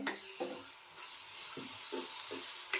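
Tomato masala paste sautéed in hot oil tempering gives a soft continuous sizzle with a few low scraping stirs of a spoon, quiet and close, with no talking.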